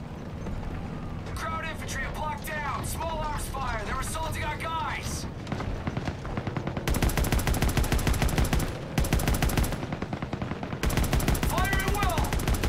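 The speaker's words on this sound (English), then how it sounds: "Small arms fire." Small arms fire crackles through a World War II battle in Call of Duty: WWII, with rapid bursts of automatic gunfire that turn loud and continuous, mixed with shouted voices and battle noise.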